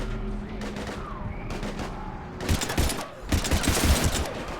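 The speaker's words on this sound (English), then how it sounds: "we're taking heavy fire" Rapid gunfire in the Mass Effect 3 video game, dense bursts of loud shots in the foreground over a tense game soundscape.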